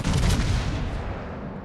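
Heavy warship guns fire in a naval battle game, a single deep, booming blast with a long rolling rumble that fades out.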